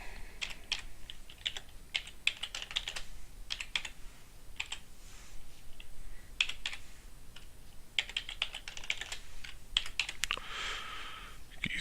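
Keys clatter on a computer keyboard as a password is typed, in quick uneven bursts of close, crisp clicks with short pauses between them.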